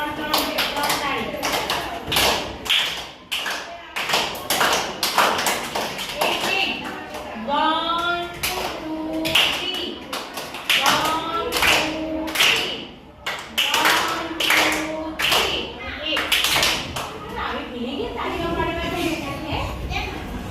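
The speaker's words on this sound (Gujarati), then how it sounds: "તો ચલો બધા એમના માટે આપણે 3 તાળી" A classroom of young students claps in sharp, rhythmic bursts of hand claps that recur throughout, mixed with children's voices and a teacher talking.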